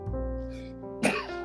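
A person coughs once, a sharp, close burst about midway through, set against a steady background hum.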